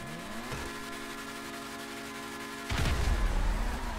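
A Mercedes AMG Project One hypercar in GTA V Online accelerates hard, with a low engine drone that jumps into a loud, dense roar near the end of the clip.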